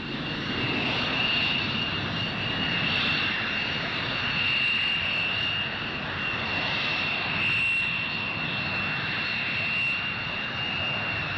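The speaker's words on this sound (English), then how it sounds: "The runway flashes past with increasing speed. The plane streaks into the air" A Lightning interceptor jet plane roars steadily down the runway on its takeoff run, a loud, continuous engine blast with a sustained high whine riding over it, no voices.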